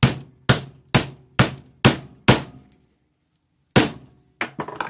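A hammer drives a rivet into a leather knife sheath on a workbench: six evenly spaced, sharp, loud blows, a brief pause, then one more strike and a few quicker, lighter taps.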